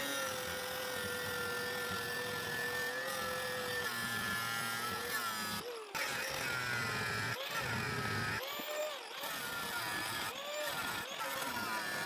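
A power tool cuts bolts off a scrap metal box, a loud continuous whine that rises and falls in pitch and stops briefly several times between cuts.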